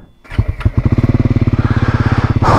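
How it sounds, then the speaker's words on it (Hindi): A Triumph Scrambler 400 motorcycle cranks briefly, fires up and settles into a steady, even thumping idle close to the microphone, with a gust of wind noise at the end. "बाइक स्टार्ट करते हैं अपनी।"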